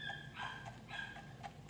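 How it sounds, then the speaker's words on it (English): A dog barks and yips several times in short bursts, fairly faint and distant, over a steady low background hum, heard through Fortnite game audio from a player on the other team. "If you hear the dogs in the background"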